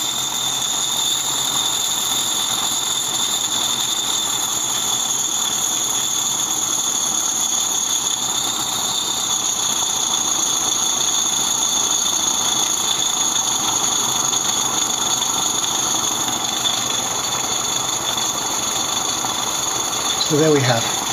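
A continuous hissing, chuffing rush of a brand-new Accucraft Ragleth live steam model locomotive, first time in steam, running steadily close by, with a high whine on top and faint voices underneath.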